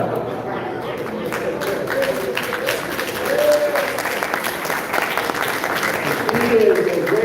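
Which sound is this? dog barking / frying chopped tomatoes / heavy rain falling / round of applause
round of applause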